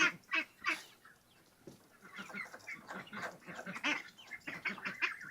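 Geese honk and ducks quack nearby on a pasture farm in a loose, irregular series of calls, some overlapping, moderately loud.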